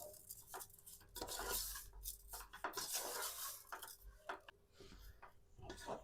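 Sugar is stirred into hot ghee in a pan, giving steady close scraping and swishing strokes with metal clinks against the pan throughout, with no voices.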